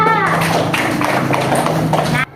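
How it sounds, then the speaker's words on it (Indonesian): Students in a classroom clap for a classmate with a loose, rhythmic patter of hand claps, heard under steady talking voices until it ends abruptly. "Tepuk tangan buat Arka."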